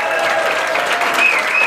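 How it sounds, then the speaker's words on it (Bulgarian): Wedding guests at a reception applaud the newlyweds' first dance, a loud, continuous wash of clapping from many hands filling the room with no pause. "Силни аплодисменти за първият танц на малото семейство."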